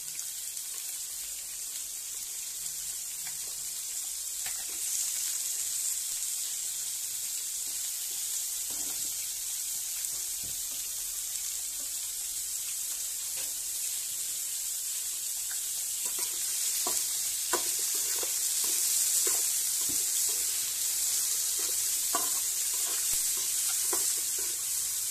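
Tomatoes frying with lightly fried onions for a magur fish and vegetable curry sizzle softly and steadily, while a spatula clicks and scrapes against the pan in irregular bursts, growing busier later.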